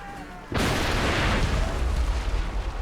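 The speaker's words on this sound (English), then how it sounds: "I just blew up the ship. Like, couldn't you tell by the massive explosion that I succeeded?" A ship blowing up in the video game Assassin's Creed 3, a sudden massive boom erupting out of quieter game sound and then a long, loud roaring rumble that carries on to the end.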